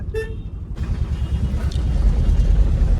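A car on the road in the evening, with a short horn beep at the start and then a steady engine and road rumble as it moves along, fairly close and continuous.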